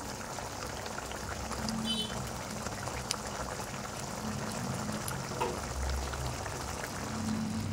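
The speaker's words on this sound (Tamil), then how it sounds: "அப்படியே ஒரு 2 நிமிஷம் கொதிக்கட்டும்." Egg paniyaram gravy simmers in a pan with a steady, close bubbling and gurgling that carries on without a break.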